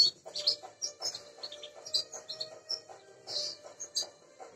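Two white opal agate canaries chirping in quick, bright bursts, several short tweets overlapping close by with no voices.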